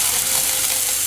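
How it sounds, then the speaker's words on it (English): Broth poured into a hot pan for pork Marsala, a loud, steady sizzling hiss that fills the whole moment, close by with no talk. "I'm going to add our broth to this now."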